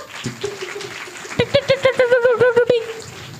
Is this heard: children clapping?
yes